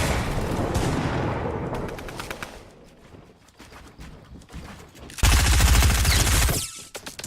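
Rapid bursts of gunfire in a Fortnite tournament match, dense repeated shots early on, a quieter stretch of scattered pops, then a loud sustained burst near the end.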